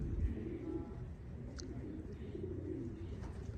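Racing pigeons returning from a race coo softly in low, repeated calls as they land, over a steady outdoor hum, with faint fluttery sounds in between.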